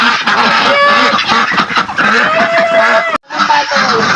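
Farm ducks quacking loudly and continuously, several harsh, honking calls overlapping close by with only a brief pause near the end.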